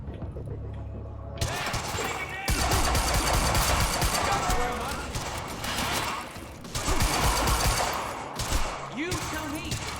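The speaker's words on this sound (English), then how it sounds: "You heard the gunfire." Gunfire from the video game Quantum Break erupts in dense rapid bursts, loud and close, with mechanical clatter between volleys and a short quieter gap; a voice talks briefly within the action.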